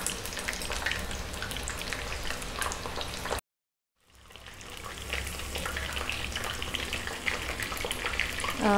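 Chicken frying in oil on a medium flame gives a dense, steady sizzle and crackle, loud and close, briefly cut to silence before the hiss of the hot oil builds back up and carries on.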